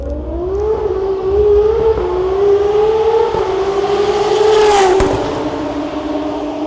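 Turbocharged race cars, including an R36 Cupra, RS3 and R32, testing at a start line, an engine note rising and shifting in pitch as it revs, echoing off the surroundings, loud and close with a sharp burst near the end.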